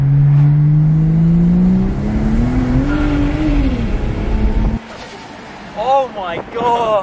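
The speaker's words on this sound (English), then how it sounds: "That turbo sound is insane." A turbocharged Ford Falcon accelerating hard, its engine note climbing loud and close with a rising whine, then cutting off abruptly before excited voices and a few short sharp whooshes follow.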